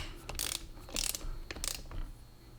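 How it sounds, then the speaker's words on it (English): A digital torque wrench ratchets as it tightens the side cover bolts on a 1961 Corvette T10 four-speed transmission, three short bursts of close metallic clicking over a faint background. "I torque these side cover bolts down to 18 foot-pounds."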